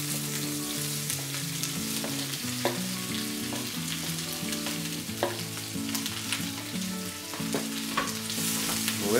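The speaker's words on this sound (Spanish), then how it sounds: "en la misma sartén donde hemos tenido las salchichas, ahora vamos a añadir cebolla cortada juliana" Julienned onion frying in a pan still oily from cooked sausages, a continuous bright sizzle with stirring scrapes and scattered spatula clicks, close and steady, with a low melodic hum in the background.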